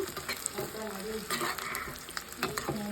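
Onion, cashew and garlic frying in ghee with steady sizzling while a spoon stirs and scrapes the pan in uneven strokes, close and fairly loud.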